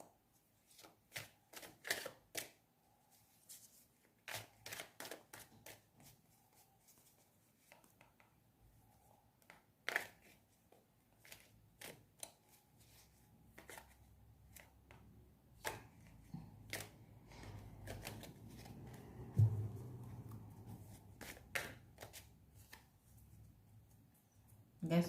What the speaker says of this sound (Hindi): उसी से डेक से कार्ड निकालते हैं